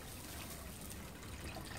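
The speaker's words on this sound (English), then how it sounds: "we're gonna add here, we're gonna add water" Water pours steadily into a cooking pot for a clear fish soup being made over charcoal, a soft continuous trickle heard close and alone for under two seconds.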